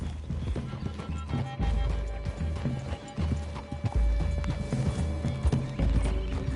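Horses in the Red Dead video game walk with a steady clip-clop of hooves, close and distinct, with an occasional whinny over a faint musical hum.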